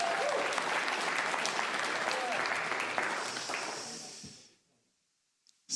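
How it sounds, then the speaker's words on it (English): A congregation at a Sunday church celebration applauds in a dense, loud wash of clapping that holds steady, then tapers off and fades to near silence. "give yourselves a round of applause"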